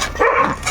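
A single short bark or yelp from a Yakutian dog, close by and fairly loud, lasting under a second with no other sounds around it.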